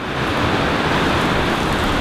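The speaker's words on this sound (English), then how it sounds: "it's really raining outside" Heavy rain pours outside a garage during a Mitsubishi Lancer Evolution build, a dense steady hiss of falling water, loud and continuous without a break.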